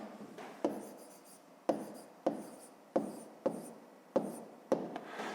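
Handwriting an answer with a pen on paper: a series of about seven quick, separate scratchy strokes at an uneven rhythm, close and fairly quiet against a silent background.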